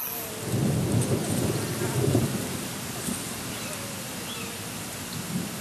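A low rumble of thunder rolls through steady rain, loud at first and then fading into a softer patter with faint insects.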